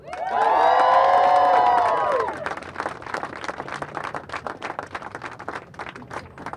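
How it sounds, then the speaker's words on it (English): A crowd at an outdoor press conference outside the Massachusetts State House lets out a loud, sustained cheer lasting a couple of seconds, then breaks into steady applause with scattered shouts and whoops. "Let's hear a huge cheer for our legislative majority."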